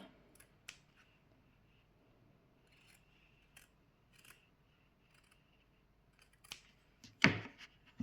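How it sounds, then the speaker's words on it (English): Scissors make quiet, sparse snips while cutting folded tulle into a half circle for a felt crown. The snipping is faint at first and gets louder near the end. "now you're just going to cut it like half of a circle"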